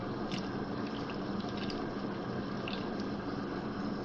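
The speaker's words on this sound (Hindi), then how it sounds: "पानी अच्छे से उबलना शुरू हो गया है" Two litres of salted water heating in a pot for chicken chow mein noodles, a steady low bubbling and simmering hiss that stays even and fairly quiet, with a few faint higher ticks, no voices.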